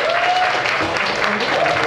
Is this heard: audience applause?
yes